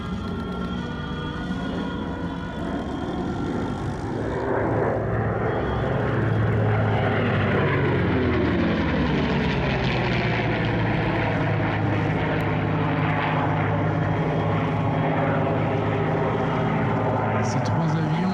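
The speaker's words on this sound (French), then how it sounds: "C'est un P-51 Mustang, P-38, accompagné par un F-4 Corsair." A P-51 Mustang, a P-38 Lightning and an F4U Corsair fly together as a trio at an air show, their piston propeller engines roaring loud and sustained, rising and shifting in pitch as they pass, with a voice commenting over them.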